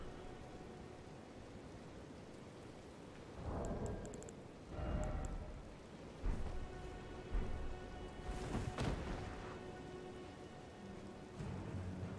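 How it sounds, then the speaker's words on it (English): Steady rain falls throughout in the video game Elden Ring, with a few louder swells and rumbling bursts rising over the constant hiss. "The rain fell fast."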